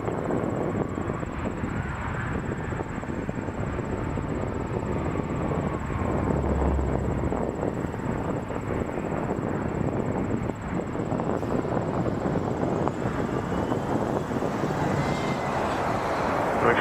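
An Air Canada Rouge airliner lands at Toronto Pearson airport, its engines making a steady, loud broadband roar that holds throughout with a thin high whine above it.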